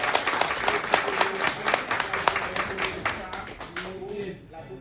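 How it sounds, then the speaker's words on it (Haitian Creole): Dense, steady applause from an audience after a speech at a French-speaking civic gathering, many hands clapping together at close range before the clapping thins and fades at the end. "Applaudissements."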